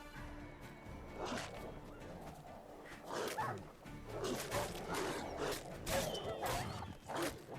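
Level 1 wild dogs in The Witcher 3: The Wild Hunt bark and yip in repeated bursts, moderately loud and close, alongside game combat noise and thuds.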